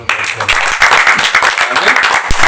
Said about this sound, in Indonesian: Kita beri tepuk tangan dulu.